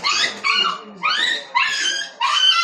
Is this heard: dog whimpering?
yes